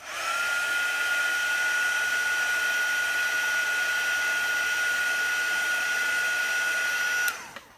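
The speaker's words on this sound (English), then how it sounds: "Heat set this." Heat tool blowing steadily to heat-set chalk paste on a painted board sign, a loud sustained whine with an even airy roar that cuts off near the end.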